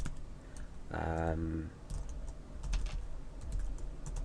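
Fingers type PHP code on a computer keyboard in a quick, close burst of key clicks and taps. A short voiced hum sits over them early on, and the tapping keeps going, spaced and lighter, afterward.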